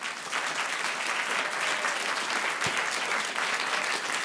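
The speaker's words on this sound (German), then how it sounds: "Erstmal fetten Applaus für die beiden." Audience at a Berlin comedy show breaks into loud, sustained applause, a thick wash of clapping and crowd noise holding steady throughout.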